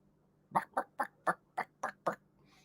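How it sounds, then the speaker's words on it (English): A household refrigerator gives a burst of seven short, evenly spaced clucking pulses, like a chicken or duck. The sound is close and fairly loud over a low steady hum, and a faint hiss follows. "my refrigerator sometimes sounds like a chicken"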